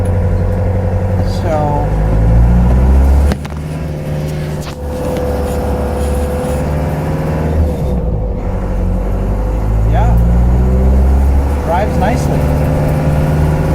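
A 1989 Land Rover Defender Perentie 110 4x4 drives slowly at about 20 km/h in second gear. Its steady low engine rumble is heard from inside the cabin, and a person talks over it.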